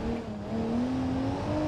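A Mercedes-Benz GLS with four-wheel drive, in BeamNG.Drive, accelerates at full throttle. Its steady engine drone climbs slowly in pitch over constant road noise, with no pauses.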